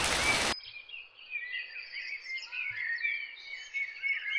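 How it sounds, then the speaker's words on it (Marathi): In a Konkan village on a rainy morning, birds chirp and twitter in overlapping calls at a moderate distance, after a brief burst of noise at the start. "गावचं वातावरण बघा, पक्ष्यांचं किलबिलाट."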